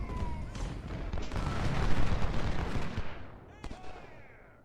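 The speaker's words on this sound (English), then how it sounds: "Back to the artillery. Counter battery fire." Booming artillery counter-battery fire in the video game Ultimate General: Civil War, a rumbling wash of distant cannon blasts swelling and fading, with a few sharper reports toward the end.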